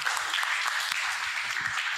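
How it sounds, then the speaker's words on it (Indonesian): A short burst of applause from a small audience at a literacy talk session, quick bright claps blending together at moderate volume, steady for the brief stretch. "tepuk tangan dulu"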